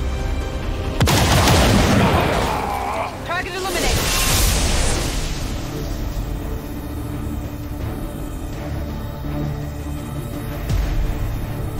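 Gunfire and explosions in the turn-based strategy game XCOM 2: War of the Chosen, with a sharp loud blast followed by a rumbling boom and echoing debris, then quieter game ambience.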